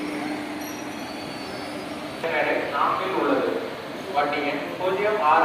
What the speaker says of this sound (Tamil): இது திருச்சிராப்பள்ளி வரைக்கும் போகிற ஒரு ட்ரெயின் நான்காவது நடைமேடையில் வந்து கொண்டிருக்கின்றது